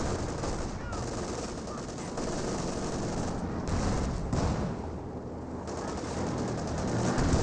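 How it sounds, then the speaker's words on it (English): Dense, continuous machine gun fire and battle din from the World War II strategy game Company of Heroes 2, with an MG42 and a .50 cal trading fire, under a caster talking throughout. "the 50 cal gets suppressed by the MG42"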